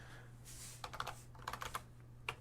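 An administrator password being typed on a computer keyboard: a short burst of close, light key clicks in small irregular clusters over a faint electrical hum, without speech.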